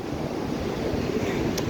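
Sea surf washing onto the shore at Sarande, Albania, a steady broadband rush of breaking waves mixed with wind buffeting the microphone, continuous and fairly loud with no voices.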